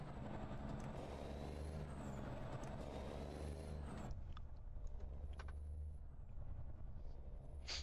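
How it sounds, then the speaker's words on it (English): A heavily modded truck in a trucking simulator rumbles with a deep, steady low engine drone, faint overall, with a hissing burst and a brief change in tone midway through. "some buses that sound like this truck does"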